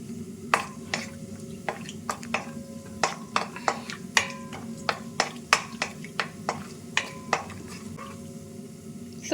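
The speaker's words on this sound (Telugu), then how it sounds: "కొన్ని క్యాష్యూస్ కూడా రోస్ట్ చేసుకోండి." Cashews roast in a pan, stirred with a utensil that clinks sharply against the metal in an irregular, repeated rhythm over a soft, steady hiss.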